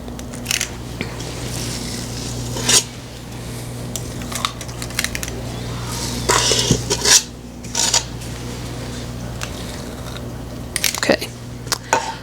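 Scoops of peanut butter blossom cookie dough, made from a Betty Crocker mix, go onto a metal baking pan with scrapes and light metallic clinks. The handling noises come in short, irregular bursts over a quiet background.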